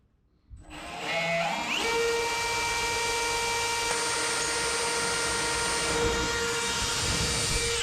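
A power drill spins up abruptly from near silence and holds a loud, steady whine while working on the bed floor and spare mount of a 1959 Apache truck, with no talking.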